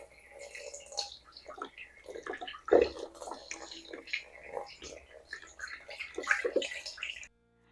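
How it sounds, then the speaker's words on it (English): Tea pours through a funnel into a carboy while mead is made from a kit, a close, uneven trickling and splashing of liquid that runs for several seconds and then stops. "it's probably a good idea to pour the tea through the same funnel and rinse the honey down in"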